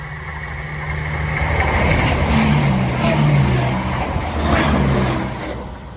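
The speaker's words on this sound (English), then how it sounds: "Class 170 Turbo Stars on a Cardiff to Nottingham service." Class 170 Turbostar diesel multiple unit passing on a Cardiff to Nottingham service near Attenborough, a steady, fairly loud engine drone and rolling rumble that swells and holds for several seconds with no talk.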